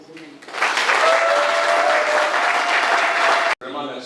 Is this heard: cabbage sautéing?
no